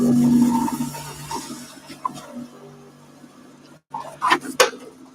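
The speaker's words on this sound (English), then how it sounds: "As soon as my compressors fill up and my 3D printer stops." Air compressors filling alongside a running 3D printer in a workshop, heard as a steady mechanical hum with tonal drones that cuts off abruptly, followed by a few clanks and knocks.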